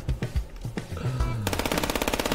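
Gunshots in the video game FPS Chess: a few single shots, then a fast, even machine-gun burst that rattles on loudly to the end, with no talk.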